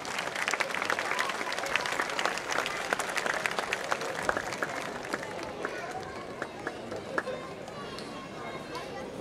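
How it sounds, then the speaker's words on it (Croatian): Sustained audience applause welcoming the municipal president of Knjaževac at the opening of the 52nd Festival of Youth Culture of Serbia, dense crowd clapping with a few cheers that holds steady and eases slightly toward the end. "Molim vas, pozdravimo ga velikim aplauzom"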